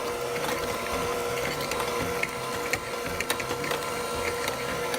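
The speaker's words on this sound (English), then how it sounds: "It says mix it at low speed, so maybe I'll just mix it a little bit longer." An electric mixer whirs steadily at low speed through boxed chocolate cake mix and softened butter, a continuous buzzing drone with small irregular clicks and knocks from the beaters against the bowl.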